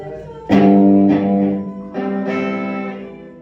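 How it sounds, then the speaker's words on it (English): Distorted electric guitar chords through an amp's crunch channel strike three or four times, each ringing out with a gritty, overdriven edge, loud and alone. "If I go all the way up to crunch, we should get a crunchy sound, right?"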